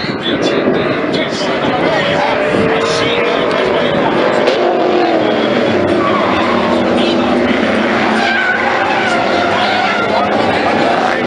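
Touring cars roar away together at the start of a Danish touring car championship season-opening race in 2014, a dense, continuous wall of engine noise with a commentator talking over it.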